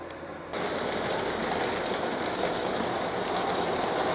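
Model railway locomotives run on a layout track, a steady close whirring and rattling rush that starts abruptly after a moment of quieter hum and continues evenly.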